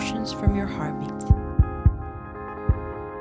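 A heartbeat sensed from a fingertip comes through as a handful of deep, irregularly spaced thumps over a sustained droning tone, with no speech.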